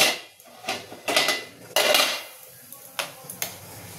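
Metal cookware clatters and clinks as steamed chicken momos are lifted out of the steamer, giving a few sharp knocks and scrapes in a quiet kitchen.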